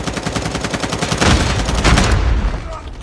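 Rapid automatic gunfire in the Call of Duty Mobile shooter, dense bursts of shots rattling continuously for about two seconds before tailing off into quieter background noise.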